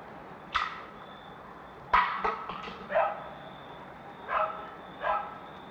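A dog barks several times at irregular intervals, short sharp yaps with pauses between them, fairly close.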